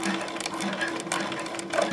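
An industrial sewing machine motor runs steadily while sewing a back stitch, producing a fast, even mechanical rattle and whir that stays close and constant throughout.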